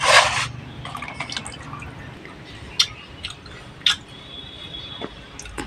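Water drips and trickles from freshly washed, cut potatoes and pointed gourd in a kitchen, with a short splash at the start followed by scattered faint drips and small wet clicks.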